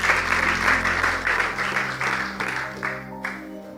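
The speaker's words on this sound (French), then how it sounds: "On acclame pour la parole du Seigneur." A church congregation claps together in a warm, sustained round of applause that gradually thins and fades out toward the end.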